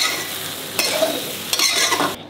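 Idli pieces frying in a pan while being stirred, a continuous hissing sizzle with a few sharper scrapes of the spoon, close and steady with no talk.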